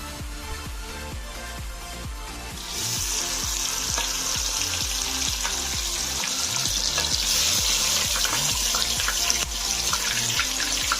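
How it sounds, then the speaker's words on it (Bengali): Bata fish drop into well-heated mustard oil, and a loud, steady hissing sizzle bursts in after a quieter start and carries on unbroken over a regular rhythmic beat in the background. "তেল খুব ভালো করে গরম হয়ে গেছে এবার আমি মাছগুলো দিয়ে দেবো"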